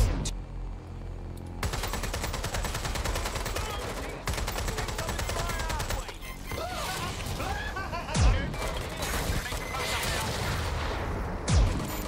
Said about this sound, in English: What the fuck is shooting at me?